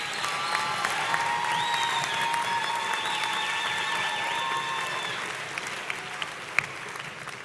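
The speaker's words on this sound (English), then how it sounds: "Let's give these graduates a big round of applause." A large commencement audience applauds graduates, with steady, dense clapping and some cheering that holds evenly for several seconds in a big hall, with a few louder claps near the end.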